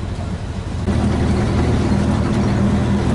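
An old Volkswagen Kombi's engine idles with a low rumble, then revs up abruptly and holds a louder, steady drone, heard close with no voices.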